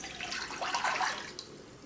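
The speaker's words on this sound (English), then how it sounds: "We add our 4 cups of water," Water pouring into a pot of anchovies and kelp for broth, a steady splashing trickle at close range with no talking.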